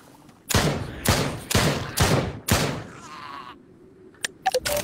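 Five heavy, evenly spaced gunshots blast in quick succession in the VR shooter Drop Dead on Oculus, each a sharp loud crack with a short decaying tail, followed by a faint whir and a few small clicks.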